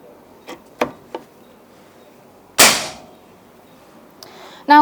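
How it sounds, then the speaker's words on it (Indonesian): A PCP Mauser OD38 air rifle fires a single sharp, loud crack midway, preceded by a few soft clicks and followed by a brief metallic rattle at the end. "Kita coba di tembakan ketiga atau tembakan terakhir ya teman-teman."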